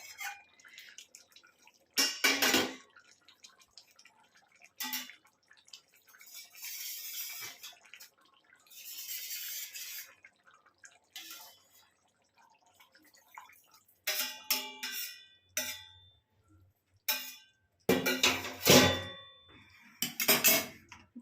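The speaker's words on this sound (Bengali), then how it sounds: "এইখানে একটু থালাটা ধুয়ে জলটা দেবো, থালাতে সব মশলাটা লেগে আছে।" A spice-coated metal plate is rinsed with water and the water is poured into a pot of potol dalna, with scattered clanks of utensils, drips and short splashing pours amid quiet pauses.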